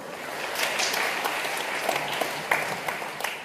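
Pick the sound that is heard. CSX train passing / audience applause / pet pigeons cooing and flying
audience applause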